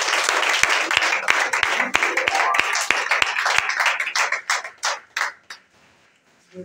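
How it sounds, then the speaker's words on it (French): A church congregation claps and cheers during a Sunday worship service, with loud, dense applause and sharp individual claps that thin out and fade away near the end. "Acclame encore."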